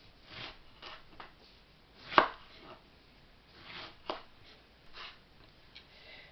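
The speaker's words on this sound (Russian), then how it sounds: "И режем их крупными дольками, чтобы они были похожи" Eggplants are cut into large chunks on a board, with irregular knife thuds and one sharp louder chop among quieter strokes, close and alone.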